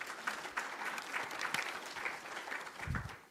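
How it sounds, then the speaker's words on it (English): Applause for a speaker at a gala dinner, a steady burst of many hands clapping in a large room, moderately distant and fading near the end. "I think that deserves a round of applause."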